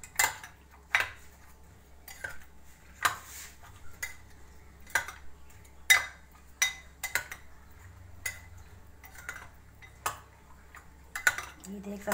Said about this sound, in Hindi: ये देख सकते हैं मैं अच्छे से मिक्स कर रही हूँ फ्रूट्स